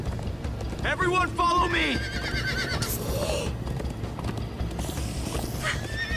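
Horses whinny and hooves clatter in a rush in the video game Minecraft: Story Mode, with a voice shouting over the commotion and game-like sound effects layered in.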